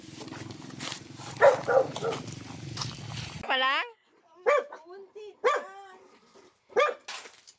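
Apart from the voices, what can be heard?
dog barking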